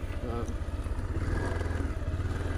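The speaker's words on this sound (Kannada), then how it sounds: "ಜೀಪ್ ಹತ್ಸ್ಯಾರ ನೋಡ್ರಿ" A jeep engine labouring up a hill road, a steady close throbbing rumble with rattling over it, continuous for a couple of seconds.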